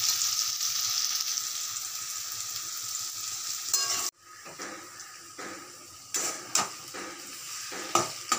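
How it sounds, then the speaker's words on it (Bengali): Potatoes frying in oil with salt, a dense hiss of sizzling that drops off suddenly, followed by intermittent metallic scrapes and clinks of stirring in the pan, close up with no talk. "দুটো একসঙ্গে সুন্দর করে ভেজে নেব।"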